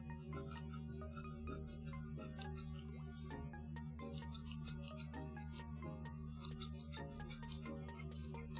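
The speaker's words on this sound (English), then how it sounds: "does anybody here like the sound of scissors?" Scissors snip again and again at close range during an ASMR stream, crisp metallic cuts in an uneven rhythm over a steady low hum.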